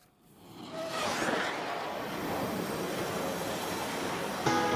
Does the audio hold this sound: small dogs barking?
no